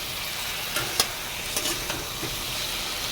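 Ridge gourd and potato with cumin sizzle steadily in a pan as a spatula stirs them, producing a few distinct scraping clicks over the continuous frying hiss.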